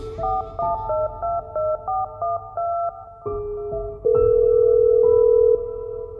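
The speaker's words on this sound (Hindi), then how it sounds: "चलो जरा फोन तो कर लूं, पहुंचा या नहीं।" Phone keypad tones beep one after another in a quick sequence, followed by a longer steady tone, close and clear with no talking.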